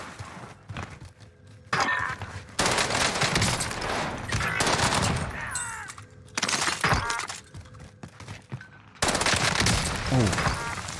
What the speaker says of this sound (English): That's probably the Sten, man. It runs out of ammo so fast.